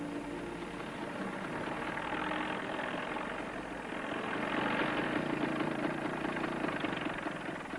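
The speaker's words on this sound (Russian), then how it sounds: "Глуши мотор, останови трактор." A tractor engine idles in a steady, low, continuous rumble that swells slightly in the second half, with no one talking.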